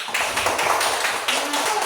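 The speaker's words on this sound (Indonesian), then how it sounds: "Ya, tepuk tangan untuk Jetsi" Group claps for a presenter, giving a short, dense burst of applause with close, bright hand claps at even loudness throughout.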